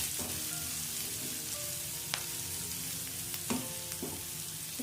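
Amaranth leaves and egg fry in a pan with a steady, moderate sizzle, broken by a few soft stirring knocks and clicks of the spatula, and no voices.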